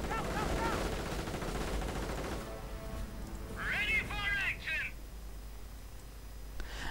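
Rifle fire from infantry in a tank-battle strategy video game crackles as a dense, busy layer of small-arms shots mixed with other battle effects. It is moderately loud, with a brief tonal chirping burst partway through.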